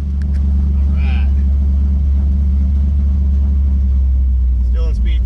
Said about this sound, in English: It seems like it's idling really good and everything.